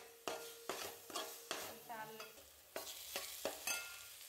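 Masala with turmeric frying in a pan for a mushroom curry, a spoon stirring in regular scraping strokes over a steady soft sizzle, close and alone.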